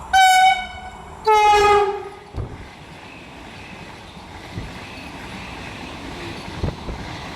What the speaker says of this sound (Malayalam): ഇതാ പുതിയ ട്രെയിനും പോയി ഇതാ പഴയ ട്രെയിനും പോയിക്കൊണ്ടിരിക്കുകയാണ്